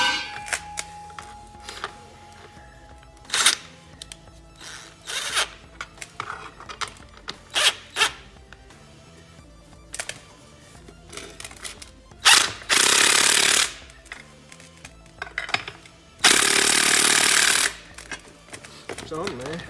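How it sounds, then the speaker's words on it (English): Short bursts from an impact wrench tightening exhaust clamp bolts on a 1978 Ford Ranchero GT, with rattling hammering and clicking between quieter handling noises, ending in two longer, louder runs. "And just suck them down with the impact."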